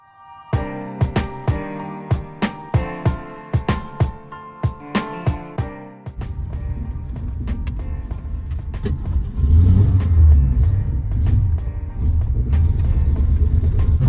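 A 1966 Ford Mustang engine, run after sitting 16 years and boggy with a leaking radiator seam, cranks in rapid rhythmic turns, then catches into a loud, rough, close idle with revs rising and falling.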